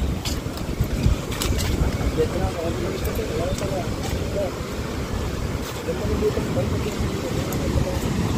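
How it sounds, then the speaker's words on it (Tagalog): Strong wind and waves at a beach by a cottage and a large boat, with gusty wind buffeting the microphone over a rumbling surf wash, loud and close, while someone talks throughout. "lalong lumalakas ang ating hangin at alon"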